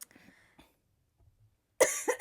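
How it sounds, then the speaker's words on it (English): A short burst of coughing bursts out loud and close after near silence, preceded by faint low murmuring sounds. "I already got a cough."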